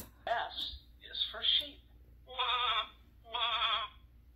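A person imitates a sheep, giving a high, wavering bleat twice, close and clear, after a few brief voiced calls.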